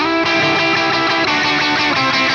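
A crunchy, overdriven Strat bridge pickup plays rhythmic chords through a Two Rock Jet 35 amp, thick and loud, with steady strummed accents.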